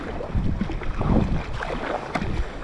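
Strong headwind and choppy waves while sea kayaking toward Sundsvall, with gusting wind buffeting the microphone, water slapping against the hull and paddle splashes, steady and fairly loud.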